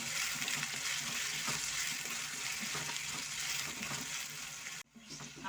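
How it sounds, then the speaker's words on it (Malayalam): Green chillies and ginger sautéing in a pan for Kerala-style puli inchi, a steady loud sizzle with stirring scrapes that continues throughout, then cuts off abruptly near the end before faintly resuming. "അതിൻ്റെ പച്ചമണം മാറുന്ന വരെ ഒന്ന് ചെറുതായിട്ട് വഴറ്റി കൊടുക്കാം"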